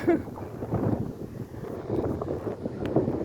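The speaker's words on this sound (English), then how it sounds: "this wind is crazy" Gusty outdoor wind buffets the microphone beside a river, a continuous rumbling roar that swells and dips without letup.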